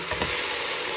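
Filipino chicken tinola is stirred in a pot, a brief burst of sizzling with a soft stir over steady cooking noise.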